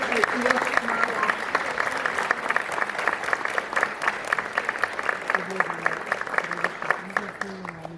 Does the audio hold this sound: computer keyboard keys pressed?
no